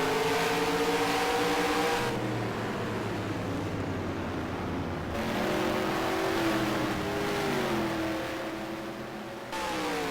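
F5 race car engine revving hard on the Richmond oval, a loud continuous roar rising and falling through gear changes and throttle lifts, close and alone without talk.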